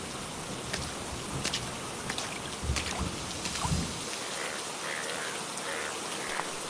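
Steady rain patters and splashes in an animated cartoon scene at a deserted rainy-day meat market, a continuous wash of drops with a few heavier spatters, fairly quiet and without voices.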